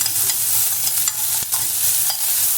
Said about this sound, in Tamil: ஒரு பச்சை மிளகாய் போட்டு நல்லா வதக்கணும்.